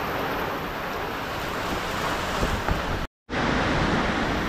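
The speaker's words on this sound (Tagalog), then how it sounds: "ang lakas po ng bagyo" Typhoon wind rushes in a loud, continuous broadband roar like surf, buffeting steadily, broken once by a brief dropout before resuming at full strength.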